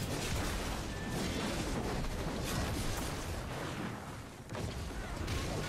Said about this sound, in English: We're getting cannoned to fucking death.